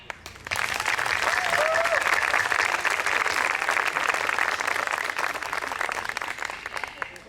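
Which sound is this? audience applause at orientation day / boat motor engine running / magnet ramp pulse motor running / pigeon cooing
audience applause at orientation day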